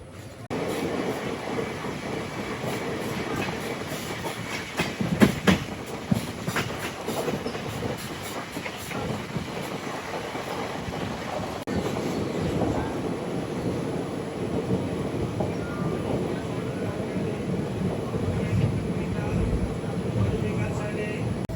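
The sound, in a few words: Guntur Rayagada Express train running on rails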